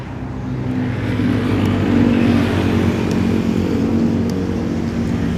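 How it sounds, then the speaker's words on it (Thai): A Yamaha X-Max 300 scooter (2018) with its stock exhaust idles and revs close by, a steady rumbling exhaust note that rises slightly in the middle and holds. "เดี๋ยวเรามาฟังเสียงท่อคันนี้กันหน่อย"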